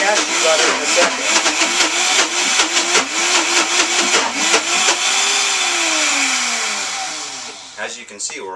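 A Vitamix blender grinds raw cashews into cashew butter, its motor roaring loud and close with pitch wavering as the thick mix churns, then winding down near the end; a voice talks over it.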